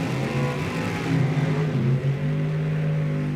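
Drag race cars, one a 55 Chevy, launch at a drag strip, engines roaring loud and sustained with a rising, wavering rumble.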